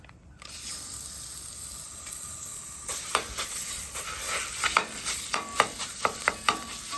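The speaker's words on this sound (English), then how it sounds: "We're going to brown the sausage, add some flour, cook it down for about a minute, maybe 2 minutes." Sausage sizzles loudly on a Blackstone griddle for a big breakfast. A steady hiss runs under a series of sharp, rhythmic spatula scrapes and taps that grow more frequent toward the end.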